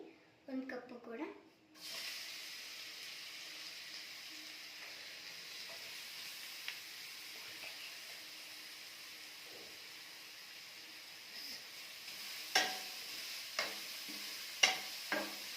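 Grated carrot being stirred and roasted in a pan for carrot halwa, a steady soft sizzle with faint scraping, then a few sharper spoon clicks against the pan near the end.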